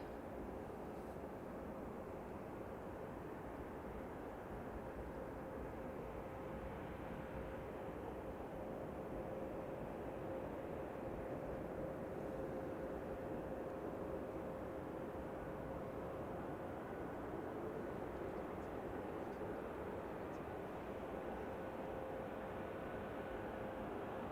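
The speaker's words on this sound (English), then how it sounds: "So usually the A380s will start their takeoff run at the very beginning of the runway, but not this one." A large four-engine Airbus A380 rolls through its takeoff run at snowy Manchester Airport. It makes a steady, distant broadband roar with a faint sustained tonal whine, and the sound stays even throughout with no talk.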